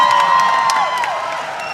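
A crowd at a regional cultural festival cheers loudly, with shrill whistling and whooping over brief bursts of clapping, filling a short moment before fading slightly.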